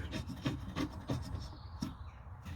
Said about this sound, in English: Get your other washer, get your screw block and tighten it up.